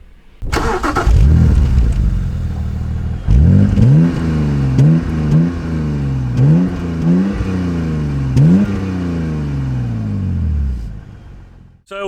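A BMW 130i's engine, close by and loud, starts with a rumble and then revs repeatedly in sharp rising-and-falling bursts before settling back to idle.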